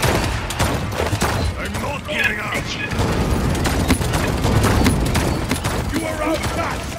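Rapid gunfire in the hero shooter Paladins, a dense string of sharp shots and mechanical clatter running throughout under casual chatter from players.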